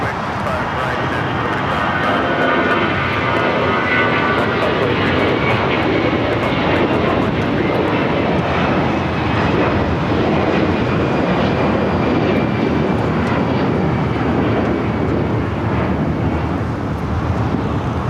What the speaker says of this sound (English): That flight taking off is Avianca heading back to San Salvador, flight 523 in the A320.